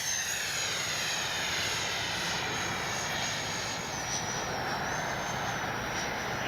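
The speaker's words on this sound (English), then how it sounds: "Just going to bring by, do a gear pass." An FMS Su-27 twin 70mm ducted-fan RC jet makes a low gear-down pass, giving a steady, loud whooshing roar with a high turbine whine that wavers slightly in pitch. No voices are heard.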